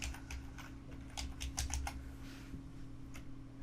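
Fingers tap out a single word on a computer keyboard, a quick irregular run of close, crisp keystrokes over a steady low electrical hum, with no talking.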